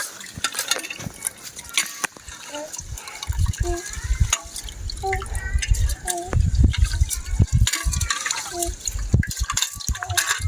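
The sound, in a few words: water poured while washing rice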